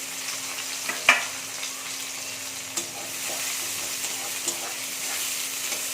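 Chopped onions and green chillies sizzle steadily in a pan, a soft continuous frying hiss with a few brief stirring clicks and knocks, close by and without talk.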